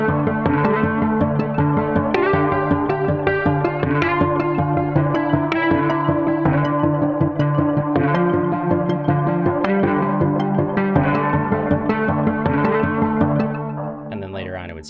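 Combat 1 sample from the DMS sample library: a dense, steady orchestral combat music cue with layered harmonic tones, loud and continuous throughout, with a shift in texture right at the end.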